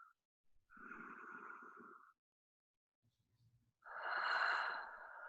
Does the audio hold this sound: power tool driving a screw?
no